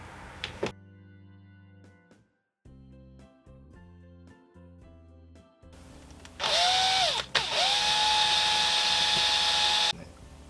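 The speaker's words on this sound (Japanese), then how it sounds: "ここに穴を開けます" A hand drill bores a hole through an acrylic plate in a DIY clamp-type ruler project, whining loudly up close in two short bursts after a stretch of quieter tonal sounds.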